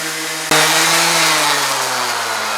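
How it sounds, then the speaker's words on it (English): Power sander working a scarf joint on a new wooden boat plank, starting abruptly after a brief quieter moment and then running steadily, loud and close with a constant whine. "But I'll do a little bit more sanding"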